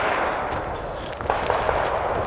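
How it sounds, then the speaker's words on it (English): Gunfire from a nearby shooting range, heard as a rapid, somewhat distant volley of sharp cracks and clangs over steady outdoor background noise, with no talking. "if they quit all their shooting over there, we could get a damn video done, Nate."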